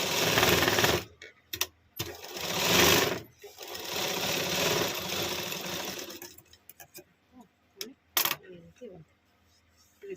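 A sewing machine stitches piping dori onto a blouse in a tailoring session. It runs in loud, steady bursts with brief stops, then gives way to quieter, scattered handling clicks and fabric rustles.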